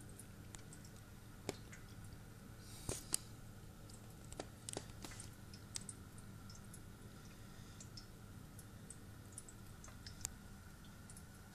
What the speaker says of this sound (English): just a slight dripping sound of the water running around the reservoir, around the radiator